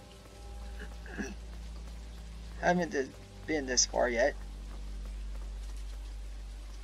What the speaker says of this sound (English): Oh, it is raining. I was wondering what that noise was.